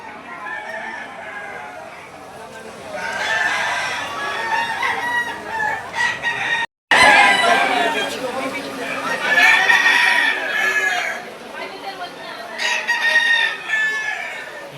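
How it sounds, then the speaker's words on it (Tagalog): Several chickens crow and cluck through the noisy bustle of a poultry market, with a seller's live birds nearby and people talking across the scene. There is a brief drop-out near the middle. "Ang dala ni tatay ay ano, anim na manok."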